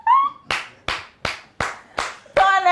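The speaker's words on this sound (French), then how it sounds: "Tonnerre d'applaudissements." Six sharp, evenly spaced hand claps ring out close and loud, framed by brief bursts of voice at the start and end.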